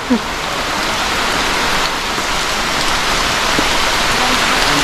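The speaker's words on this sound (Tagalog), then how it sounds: "Basang-basa na ako sa ulan." Steady heavy rain hisses and patters on surfaces all around, loud and continuous, with no voices.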